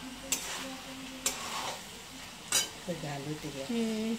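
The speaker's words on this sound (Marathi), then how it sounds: "ढवळते बटाटा" Potatoes being stirred in a pan while cooking karandi batata bhaji, with a few sharp utensil scrapes against the pan over a low sizzle, and faint household voices or tones nearby.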